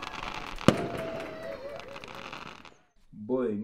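Fireworks and firecrackers exploding outside during a party, one sharp loud bang followed by a long crackling, hissing tail that fades to near silence before a voice begins at the end.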